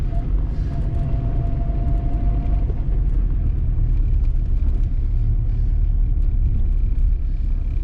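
A Classic Mini car is driving, its engine a steady, loud, low rumble throughout, close inside the cabin, with faint road noise.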